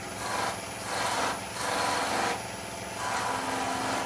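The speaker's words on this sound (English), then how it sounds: "We're going to do a little sand only because there's a couple of little burrs on the edge there after we've done our ball." Sandpaper rubbing a turned wooden Christmas tree spinning on a lathe, a steady rasping hiss that swells and eases in repeated passes over the motor's constant whine.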